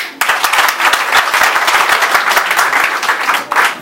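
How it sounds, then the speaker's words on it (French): A crowd at a political party ceremony installing a delegate applauds loudly and close by, with sharp individual claps standing out within a continuous roll that lasts throughout. "On applaudit."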